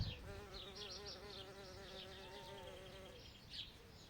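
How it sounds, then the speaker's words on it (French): Bees buzz close by among flowers in a summer garden, a steady droning hum with wingbeats drifting in and out, fairly quiet and with no one talking. "on entend les abeilles."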